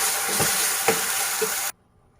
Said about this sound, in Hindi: ऑयल गर्म हो चुका है। उसके बाद हम इसमें चटनी डालेंगे।